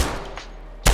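Pistol gunfire in the virtual reality shooting game H3VR, with a sharp shot at the start followed by a decaying tail and a second loud crack near the end.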